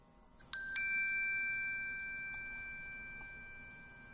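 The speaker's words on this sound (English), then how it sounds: "we have everything we need set up to play back our bell.wave audio file as soon as we hit run" Bell sound from a WAV audio file played back through the Processing programming environment, with a single bright ding that rings out and slowly decays over a few seconds.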